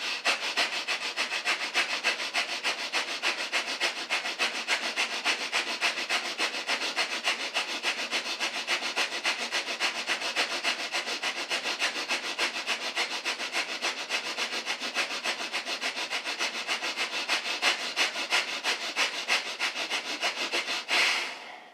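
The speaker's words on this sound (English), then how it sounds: "exhale, and then inhale, pump the belly, breath of fire" Rapid yoga breath of fire, quick forceful belly-pumped breaths through the nose repeating in a steady fast rhythm for about twenty seconds, close and breathy, ending abruptly.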